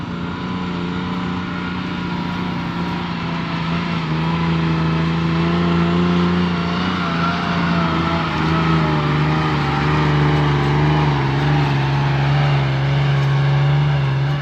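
A tractor's loud, steady diesel engine drones nearby while pulling a planter, its low throbbing hum holding constant with slight shifts in pitch throughout.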